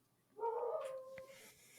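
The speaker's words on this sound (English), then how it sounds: "you need to leave that howl in, please." A single howl in a 2025 Wolf Man film, one sustained, wavering tone lasting about a second, fairly faint and alone, ending in a brief low noise.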